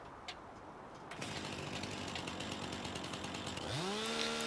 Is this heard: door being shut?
no